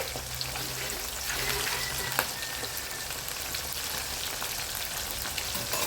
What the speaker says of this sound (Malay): Kita letak tepung nak goreng supaya air manis udang tu tak keluar